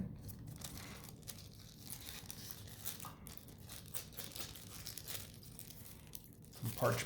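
Wrapped Lorcana booster pack being carefully opened, with steady crinkling and tearing of the foil wrapper close up over several seconds, a louder rustle near the end.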